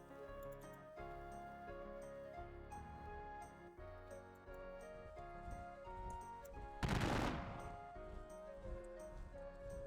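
Massed artillery and musket fire in a Battle of Gettysburg war game, a steady crackle of distant shots over background music, with one loud close blast about two-thirds of the way through.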